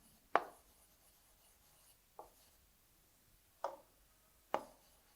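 Chalk or marker strokes on a board in a primary-school maths lesson come as four short, separate scratchy taps spaced a second or two apart against a quiet room.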